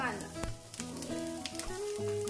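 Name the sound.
onion frying on medium gas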